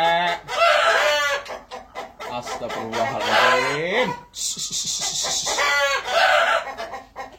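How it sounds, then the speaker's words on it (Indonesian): Free-range village chickens cluck and squawk noisily close by, with repeated loud calls and a rooster-like crow breaking through, while someone speaks briefly between them. "karena ini ayam udah keburu ribut."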